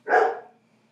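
A single short dog bark, fairly close and moderately loud, alone with no talk, fading quickly into quiet.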